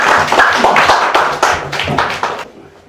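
A church congregation at a Korean Thanksgiving service claps in thanks, a short loud burst of hand claps close by that stops abruptly after about two and a half seconds.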